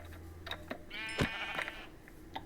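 A single sheep bleats clearly in Minecraft over a low, steady background hum, with a few soft clicks around it; no speech.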